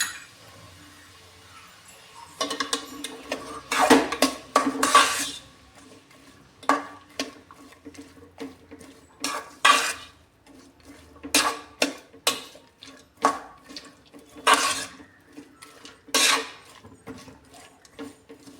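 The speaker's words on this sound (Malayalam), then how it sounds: "അത് നീളത്തിലരിഞ്ഞത് പാനിലോട്ട് ഇട്ട് കൊടുക്കാം. എന്നിട്ട് നന്നായിട്ട് ഇളക്കി യോജിപ്പിക്കാം." Sliced onions stirred in a pan for a Kerala chicken dish: intermittent scraping and rasping strokes of a spatula against the pan, arriving in irregular bursts with quiet gaps between them.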